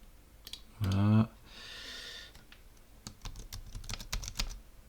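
Typing on a computer keyboard while filling in account fields on a PC: scattered clicks and quick bursts of keystrokes, fairly close and crisp, with a brief loud tone and some background noise in between.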